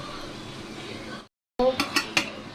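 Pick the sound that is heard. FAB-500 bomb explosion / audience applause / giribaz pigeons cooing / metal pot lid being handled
metal pot lid being handled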